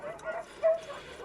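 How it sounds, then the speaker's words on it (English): Dogs bark and whimper in a film scene from Mary Shelley's Frankenstein (1994), with a couple of short yips and a louder bark near the middle, under a faint wash of background sound. "Get the dogs! Get them!"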